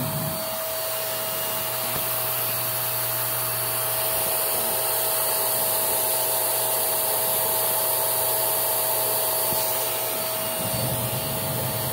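A Filtropur FC F3000 vacuum cleaner runs with strong suction, producing a loud, steady whooshing roar with a high whine that holds unbroken for the whole stretch and dips slightly near the end.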